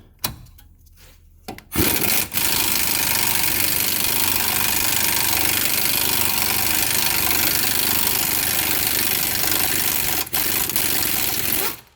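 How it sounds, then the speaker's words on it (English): A 3/8-inch impact gun works at a wheel hub bolt on a 2006 Subaru Outback, a sustained loud mechanical hammering that starts abruptly after a quiet moment and runs on steadily, with a brief dip near the end. "Let's try my 3/8 impact gun."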